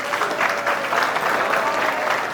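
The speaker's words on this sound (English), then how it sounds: "Let's clap it up for Coach Rodney." An audience at a Fairmont Heights football alumni Hall of Fame ceremony claps for the school's current head football coach: steady, dense applause from a full room, sustained without pause.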